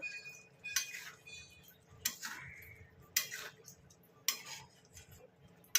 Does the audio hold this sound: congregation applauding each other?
no